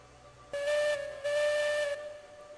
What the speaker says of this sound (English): I heard that whistle on the other side of the pond